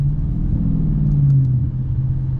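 Dodge Challenger R/T with the 5.7 engine during paddle downshifts: a steady, close, low engine rumble with a slight rise in pitch midway, heard from inside the car without talking.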